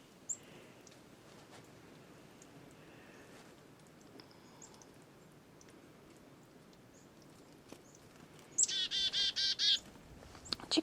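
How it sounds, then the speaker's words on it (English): A black-capped chickadee gives its chickadee-dee-dee call, a quick series of buzzy repeated notes close by near the end after a long stretch of faint, quiet background. "Chickadee dee dee dee. Chickadee dee dee dee. Dee dee dee dee."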